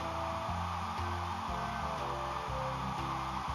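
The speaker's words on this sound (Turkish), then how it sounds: "Biraz da fön." A hair dryer blows steadily, a constant whooshing hum with a low motor drone and faint fluctuations, close and fairly quiet, no talking.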